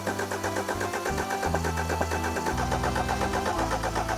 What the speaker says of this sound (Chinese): 我们先对发动机进行一个断油启动